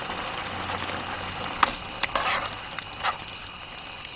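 Calamari pieces sizzle and fry steadily in a hot pan, a continuous soft crackle with a few sharper pops and spits rising out of the hiss.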